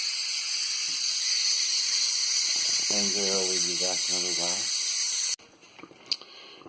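Steam hisses steadily from a pressure cooker after a pot roast, a loud continuous high hiss that a voice speaks over midway, then it cuts off abruptly, leaving quieter clatter.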